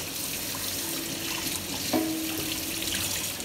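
Tap water running steadily into a sink while breast pump parts are rinsed, a continuous close hiss and splash with small knocks of plastic against the stream, no speech.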